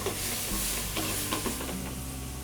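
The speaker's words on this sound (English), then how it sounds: "we're going to deglaze with 2 ounces of the amber beer" Shrimp and prawns sizzle hard in a hot pan as two ounces of amber beer deglaze it, a dense continuous frying hiss with light stirring scrapes throughout and no talk.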